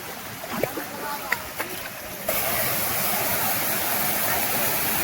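A steady, loud rush of a waterfall pouring down from above during the rainy season in Konkan, swelling suddenly partway through, with a few faint knocks before.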